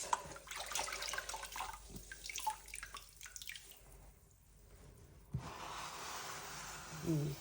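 Water from rinsing a grout sponge while cleaning mosaic tile grout, faint splashing and dripping in a bucket, with light handling noises and soft trickles close by.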